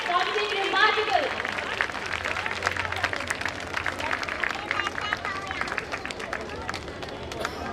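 Audience at a school scholarship ceremony for meritorious students applauding steadily in a dense, continuous patter of many hands, with some crowd murmur mixed in.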